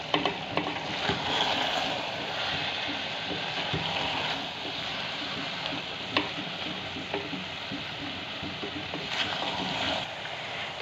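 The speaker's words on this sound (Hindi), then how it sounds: "तो अब मैं इसको थोड़ा सा भून लूँगी" Mixed vegetables with green chilies, potato, peas and carrot, stirred and fried in a pan for a home-style curry, giving a steady close sizzle with scattered scraping clicks of the spoon throughout.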